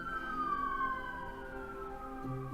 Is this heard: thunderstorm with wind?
no